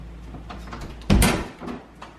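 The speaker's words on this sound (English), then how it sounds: "can you open the pantry door for mommy?" A pantry door in a home kitchen swings open with one sharp knock and rattle near the middle, followed by a softer bump, against a quiet indoor background.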